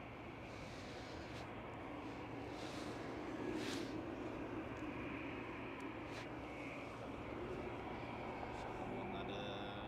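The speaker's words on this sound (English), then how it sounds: "There goes the Air France A220." An Air France Airbus A220 jetliner takes off at Amsterdam Schiphol, its steady engine roar broad and continuous throughout, with a brief swell partway through and voices chatting faintly underneath.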